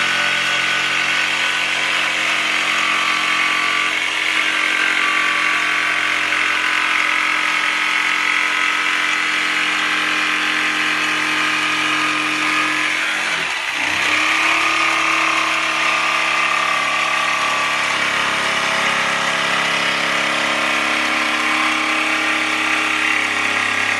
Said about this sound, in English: Then you can just pop the jigsaw straight in like so.